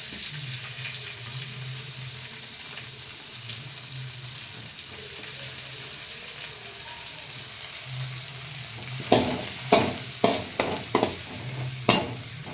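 Tomato frying in a pan with onion and green chilli for noodles, a low steady sizzle that turns into a run of sharp scraping stirs near the end.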